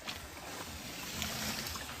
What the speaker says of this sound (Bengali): এই বছরের প্রথম চকে যাইতাছি নৌকা দিয়া